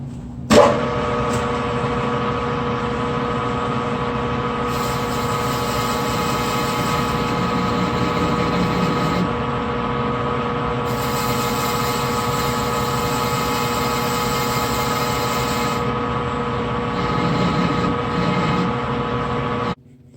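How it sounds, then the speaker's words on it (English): A lathe cuts an O-ring groove in a Honda 250R cylinder sleeve, a steady whining drone with strong tonal hum running continuously and loud throughout, with faint shifts in the cutting noise. "we're going to cut the O-ring groove"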